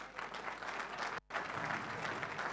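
An audience applauds at a referee award night, dense steady clapping from a crowd filling the whole stretch, broken only by a momentary cut near the middle.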